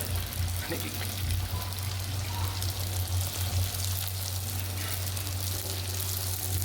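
Mangalore buns frying in hot oil, a continuous loud sizzle and bubbling close up with a steady low hum underneath.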